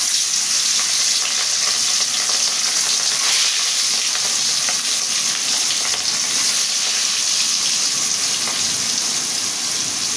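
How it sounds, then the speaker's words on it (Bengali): River pangasius fish pieces fry in hot oil, giving a loud, dense and constant crackling sizzle that sounds close, with no voices over it. "আমার তেল গরম হয়ে গেছে। এখন আমি মাছটা ভেজে নেব আগে।"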